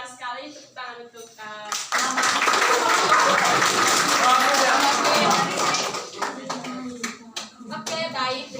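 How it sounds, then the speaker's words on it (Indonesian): Audience clapping at a hypertension health-education session, a burst of hand claps lasting several seconds, with speech before and after. "Tepuk tangan untuk"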